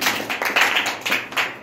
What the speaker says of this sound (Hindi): तालियां उजैन के लिए